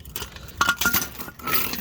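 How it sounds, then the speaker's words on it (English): Keys jangle and clink in a few quick metallic bursts close by, during work on a muffler of a 1995-2002 second-generation Dodge Ram truck at home. "You got the keys still?"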